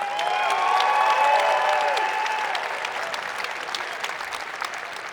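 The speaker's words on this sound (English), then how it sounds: "Clap it up." A conference keynote audience at VeeCon 2023 claps together in a full, loud burst, with some voices mixed in, then the applause thins and fades slightly over about five seconds.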